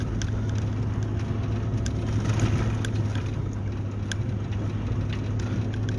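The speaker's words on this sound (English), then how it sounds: "I'm trying not to drive in the ruts here because it looks like it's just black ice in the ruts right now." A car rolls slowly over a snowy road glazed with black ice in the ruts during a winter storm, its steady low engine and tire rumble mixed with a crunching hiss, close and continuous, with no one speaking.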